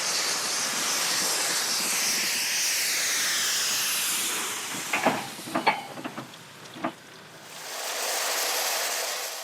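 A first-series Super Pacifique steam locomotive at a Paris terminus, heading the Flèche d'Or, vents a loud, broad steam hiss that runs steadily, broken midway by a few sharp clanks and bursts before the hiss swells again.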